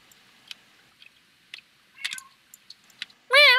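A house cat lets out a single short, loud meow at the very end, after a run of scattered soft clicks and crunchy taps in an otherwise quiet room during a home podcast recording.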